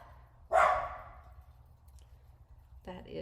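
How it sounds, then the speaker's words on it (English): Dogs barking indoors, one of them a small dog: a single sharp, fairly close bark rings out and fades, with another brief bark or yelp at the very end. "I'm pretty sure they're barking at nothing right now."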